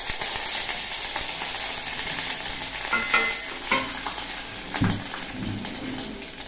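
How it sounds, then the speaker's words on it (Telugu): Mustard seeds, cumin, four dry red chillies and curry leaves fry in hot oil, a steady close crackling sizzle with louder scraping stirs toward the end. "ఇది బాగా దోరగా వేగే వరకు వేయించుకుంటామండి"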